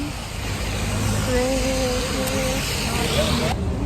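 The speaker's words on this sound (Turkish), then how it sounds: "şu anda otobüsteyiz" Interior of a moving city bus on the way to Kadıköy, Istanbul, with a steady engine and road rumble throughout, a faint tonal whine rising and falling, and a brief clatter near the end.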